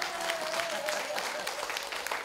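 Applause for a village singer at a local Jeju comedy variety gathering, moderate clapping from a modest crowd with a voice and a faint tone running underneath.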